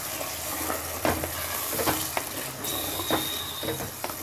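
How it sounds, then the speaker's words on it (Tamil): Coconut paste added to a frying fish curry base, sizzling loudly and steadily while a spoon stirs and scrapes the pan in repeated strokes, close up and without speech. "இது கூட வந்து ஒரு ரெண்டு நிமிஷம் இது வறுத்துருச்சு. தேங்காய் கலவை சேர்த்துடுறோம்."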